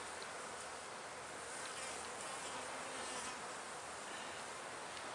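A dense, steady hum of many honey bees buzzing continuously around a hive, close and loud, with no voices.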